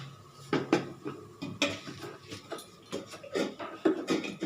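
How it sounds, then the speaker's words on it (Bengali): Poppy seeds are ground with a green chili into paste, giving uneven rhythmic scraping and knocking strokes, close and moderately loud, with no voice. "পোস্তটা আমি পেস্ট করে দিচ্ছি একটা কাঁচা লঙ্কা দিয়ে"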